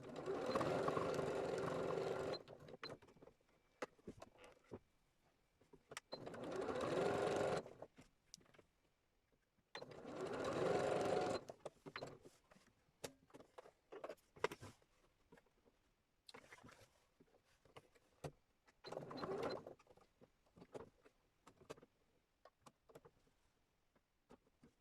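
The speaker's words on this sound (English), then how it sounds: "I'm just going to stitch this trim bit on and then give everything a good press" A sewing machine stitches trim in four short bursts of a few seconds each, with quiet gaps and small handling clicks between them. The whirring is close and moderately loud, and no one talks.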